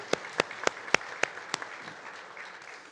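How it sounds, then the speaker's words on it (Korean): An Easter church congregation claps about six slow, even unison beats, then trails into a softer, scattered patter of applause. "우리 부활하신 주님께 영광과 감사의 박수를 올리겠습니다."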